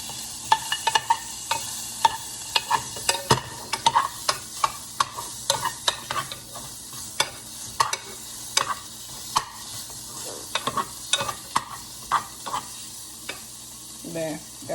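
Food sizzles steadily in a pan on a home stove while a utensil stirs and scrapes it, giving repeated sharp clicks and knocks over the constant frying hiss, close and fairly loud, with no talking.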